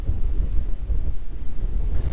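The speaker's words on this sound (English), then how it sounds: "it's very, very windy" Strong wind buffets the microphone in a steady low roar with gusty surges throughout on the Norfolk Broads, no voices present.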